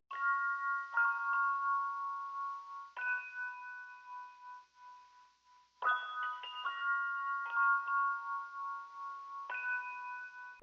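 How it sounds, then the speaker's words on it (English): A Keyscape toy piano plays simple chords, alone and fairly quiet. Bright bell-like tones are struck in small clusters and left to ring and fade between groups. "the next element that I added was this toy piano from Keyscape."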